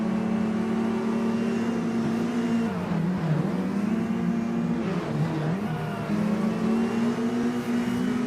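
A Mini race car in the sim racing game Automobilista 2 drives with a steady, loud engine drone that holds throughout, dipping and rising in pitch twice as it shifts and brakes through corners.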